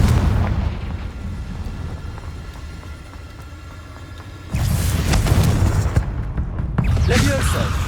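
A Confringo spell in Hogwarts Legacy sets off booming fiery blasts during combat: a rumbling detonation fades, then a second loud burst hits with crackling debris, while a voice speaks now and then.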